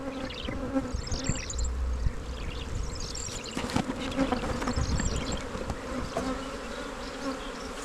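Honeybees buzzing around a hive near a tree: a steady, dense drone of many insects close by, with individual bees passing louder and fading, and no voices.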